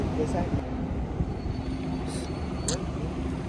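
A train passes unseen in fog near Lonavala's Tiger Point, a steady low rumble under wind and a voice, with brief higher squeals.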